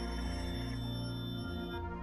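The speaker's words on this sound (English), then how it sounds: "Sorry, my phone's going off." A mobile phone ringtone plays indoors as a loud, steady electronic melody of sustained tones that step between pitches, filling the whole moment with no talking.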